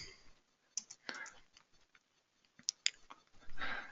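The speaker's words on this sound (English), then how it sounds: "So let's just quickly type that in" Quiet, scattered clicks of a computer keyboard come in short uneven bursts with pauses between them, close and faint, as text is typed into a presentation.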